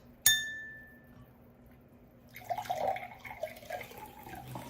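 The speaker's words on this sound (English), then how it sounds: "Fill the glass with seltzer." A glass clinks sharply, then after a quiet pause seltzer is poured into it for a New York egg cream in a home kitchen, a fizzy, splashy pour with uneven bursts and no speech.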